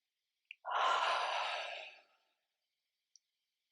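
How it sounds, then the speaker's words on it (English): A single long, deep exhale of about a second and a half during a guided breathing exercise, close and soft, with a faint click just before it and another tiny click near the end in silence. "And breathe."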